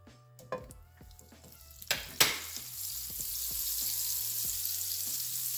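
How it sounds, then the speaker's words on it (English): Avocado oil and two pats of butter hitting a hot pan, with a few sharp clacks at first and then a sizzle that builds into a steady, close hiss. "We are going to add some avocado oil to our pan, along with 2 pats of butter."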